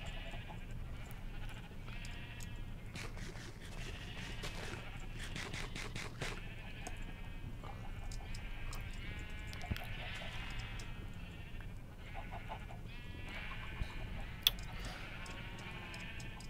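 Repeated sheep bleats in Minecraft, several overlapping calls from a flock in quick succession over steady game ambience, moderately loud throughout with no talking.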